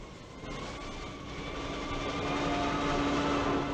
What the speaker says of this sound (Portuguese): Helicópteros movimentam-se em plena Avenida São João.